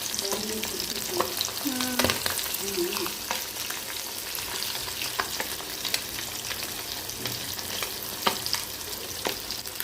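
Katla fish frying in a pan, a steady, loud sizzle of hot oil running throughout with occasional scrapes and turning noises close by, and no voices.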